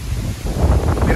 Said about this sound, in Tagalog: Lakas ng hangin dito ngayon mga kabayan sa Nyugan, no?